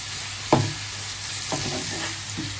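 Ginger garlic paste hitting hot oil in a pan for an egg bhuna: a sharp sizzle bursts out, then softer sizzling and stirring carry on under a steady frying hiss.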